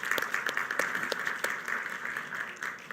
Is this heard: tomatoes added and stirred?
no